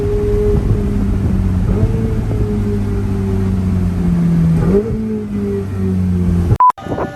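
A Ferrari 488 GTB engine holds a loud, steady drone whose pitch dips and climbs twice as the gears change, then cuts off abruptly near the end.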